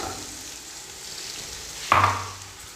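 Finely chopped cabbage, green chilies, peas and carrots are added to hot masala for restaurant-style vegetable fried rice. A sudden loud sizzle bursts in partway through after a quieter frying hiss, then fades down. No one speaks.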